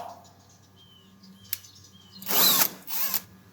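A power driver with a 5/16 bit backs out screws from an air conditioner panel in two short, loud whirring bursts near the end, after a quiet stretch with a faint click.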